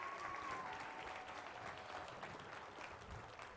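A conference audience applauds at a young men's leadership session. Steady clapping from many hands is heard, fairly faint and continuous for the whole stretch, with no talk over it.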